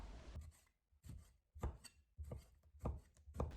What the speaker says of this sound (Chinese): 先把牛肉切成小块